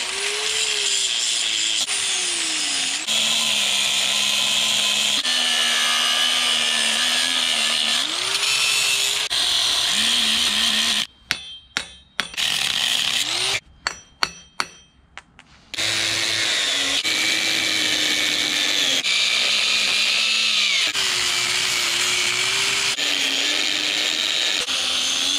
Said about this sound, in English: It's a lot of grinding, a lot of cutting, and a lot of time.